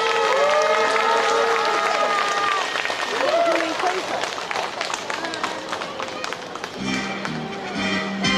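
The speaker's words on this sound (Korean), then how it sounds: "여러분의 큰 박수로 함께 하겠습니다." An audience at a Korean patriotic memorial concert applauds before a musical performance, a dense wash of clapping and crowd noise with a presenter speaking over it, fading slightly toward the end.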